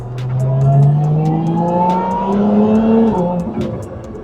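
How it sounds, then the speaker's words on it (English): A modified car accelerates hard with a loud, rising engine note and a supercharger whine climbing in pitch, with sharp crackling exhaust pops over it and no talk. "You actually hear the supercharger and the pops."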